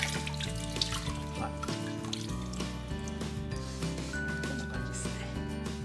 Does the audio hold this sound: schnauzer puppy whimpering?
no